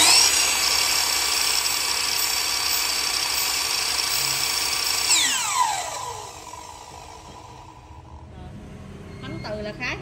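Hitachi C8FSH 100V sliding miter saw with a 216 mm blade runs with a loud, steady high whine, then the motor spins down midway and the clip ends quieter, with someone talking nearby.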